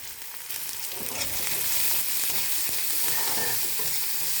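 Cumin seeds, onion and green chili crackle and sizzle in hot oil for a Bengali tel chochhori, the frying swelling from a quieter start into a loud, steady hiss close by.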